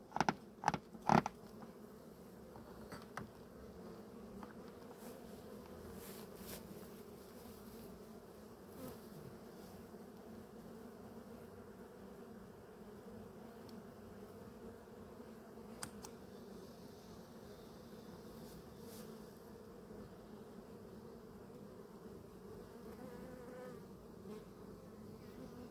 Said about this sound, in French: Là, on voit plein d'abeilles blanches sortir,